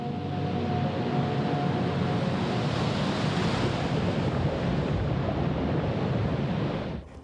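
Ocean surf breaks along the Hawaiian coast in a steady, loud, close roar of churning water, with wind buffeting the microphone throughout and no voices.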